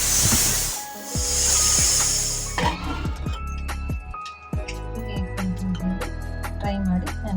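A pressure cooker whistle hisses loudly while cooking dal khichdi, with sustained bursts of steam release and rattling, close up.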